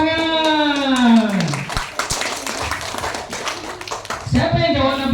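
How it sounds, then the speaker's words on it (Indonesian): Children at an elementary school Isra Mi'raj commemoration break into a short burst of hand clapping after a voice speaks, and the clapping fades as talk resumes. "Ini ibu kepala sekolah, tepuk tangan."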